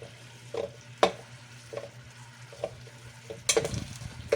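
Glutinous rice for puto maya simmers in a pot, giving faint, scattered bubbling pops and a few soft clinks over a quiet background.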